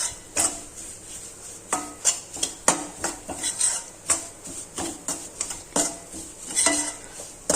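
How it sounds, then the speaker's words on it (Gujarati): A metal spoon scrapes and clinks against a pan as flour roasts in ghee off the heat, with repeated close scraping strokes in an uneven rhythm and no talking. "ગેસની ફ્લેમ બંધ કરી દીધા પછી પણ આપણે આ રીતના તેને 1 મિનિટ માટે ચમચાથી શેકતા રહેશું,"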